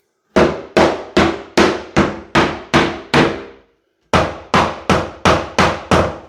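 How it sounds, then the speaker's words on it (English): A hammer strikes a timber-framed wall in quick, evenly spaced, loud thuds, a run of about eight hits, a short pause, then about six more. "I'm just hitting the wall with the hammer to hear when the sound changes"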